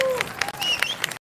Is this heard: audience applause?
yes